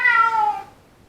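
A house cat gives a single drawn-out meow indoors, loud and close, trailing off into quiet within about a second.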